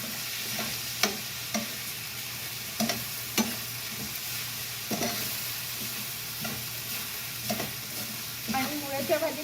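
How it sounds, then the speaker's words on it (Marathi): Lentils stirred into radish greens in a pan, with a soft continuous sizzle and intermittent spatula scrapes and taps against the metal, fairly quiet and close, with no talking. "पुन्हा एकदा ह्या पाल्याबरोबर ही डाळ मिक्स करून घ्यायची"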